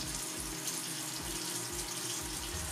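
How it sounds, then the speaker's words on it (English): Cold tap water runs steadily into a bathroom sink while a face is wetted during a skincare routine, a close continuous splashing stream with soft irregular pulses. "I'm just gonna use cold water this time. Wet my face again"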